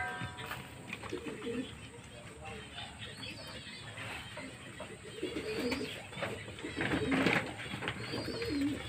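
Pet pigeons coo repeatedly at close range while being fed wheat grains, soft throaty calls rising and falling, with someone talking quietly among them.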